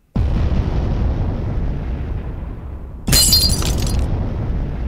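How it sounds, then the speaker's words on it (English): A steady loud rumble runs throughout, then a bright crash of breaking glass bursts in near the end, scattering shards over the continuing roar. "And shattering glass."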